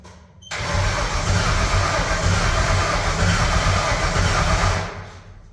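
The engine of a 1952 Ford F-1 race truck is cranked over by the starter without firing, a loud, close, steady churning roar for about four seconds that then winds down.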